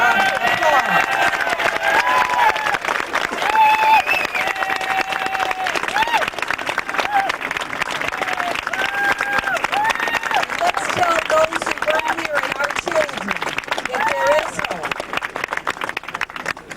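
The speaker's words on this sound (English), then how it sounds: "Let's give him a resounding applause" An audience at a protest gathering breaks into sustained, dense applause and cheering for several seconds, clapping filling the space while voices call out over it.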